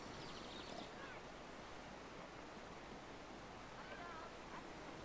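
A waterfall in the video game Brothers: A Tale of Two Sons roars as a steady, dense broadband rush filling the whole clip at even loudness, with faint tonal game sounds drifting through it.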